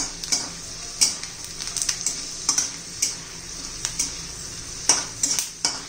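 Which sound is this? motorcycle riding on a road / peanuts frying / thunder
peanuts frying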